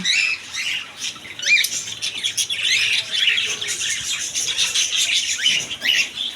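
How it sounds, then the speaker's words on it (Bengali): Cockatiels squawk and chirp at a bird and pigeon market in Kashinathpur, Pabna, their harsh, busy calls overlapping steadily and loudly throughout with no pause. "এদিকে আছে ককাটি পাখি"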